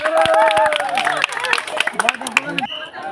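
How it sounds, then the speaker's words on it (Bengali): An audience at a ball-tossing prize game claps together, a dense burst of applause mixed with crowd chatter and a voice speaking over it. "সবাই একটু হাততালি একসাথে"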